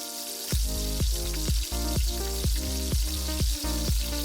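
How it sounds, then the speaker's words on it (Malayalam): Onion sautéing in a pan toward golden brown, with a steady sizzle broken by regular rhythmic knocks or scrapes of a spoon against the pan, about every half second, close and alone. "സവാള ഗോൾഡൻ ബ്രൗൺ ആവുന്നിടം വരെ ഒന്ന് വഴറ്റിയെടുക്കുക."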